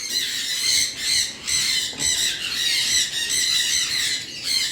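A pair of sun conures give harsh, shrill squawks in a rapid, repeated series, loud and close, with no talking.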